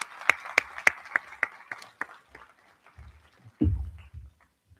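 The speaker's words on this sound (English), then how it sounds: "So may we have a big round of applause to Geshe-la." An audience at an evening session with Geshe Lhakdor claps, a run of sharp, distinct handclaps that thin out and fade after a couple of seconds, followed by a few soft thumps.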